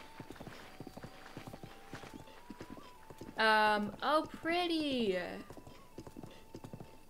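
A horse gallops in The Legend of Zelda: Breath of the Wild through the Akkala region, its hooves making a steady, rhythmic clip-clop throughout. A player's voice briefly speaks over it in the middle.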